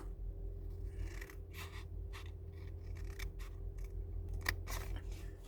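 Scissors cutting paper card, a series of faint close snips and rasping cuts spaced irregularly, alone in a quiet room with a low hum.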